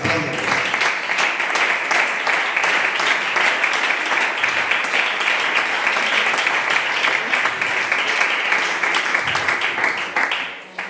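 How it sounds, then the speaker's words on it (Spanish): Congregation applauding during a church sermon, sustained dense clapping from many hands for about ten seconds before tapering off, with faint voices mixed in. "Aplaudimos."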